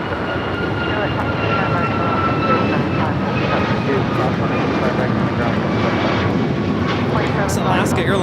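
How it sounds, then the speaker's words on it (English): Alaska Airlines Boeing 737 MAX 9 taking off at Los Angeles airport toward Guadalajara, a steady broad jet roar held at constant loudness, with faint talk in the background. "It's Alaska Airlines 418 taking off to Guadalajara on a MAX 9"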